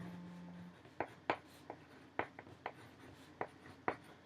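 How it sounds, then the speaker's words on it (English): Pen writing a title on a paper foldable, a quiet series of short scratchy strokes and taps in an irregular rhythm, close to the listener, with no talk. "I would write The Outsiders."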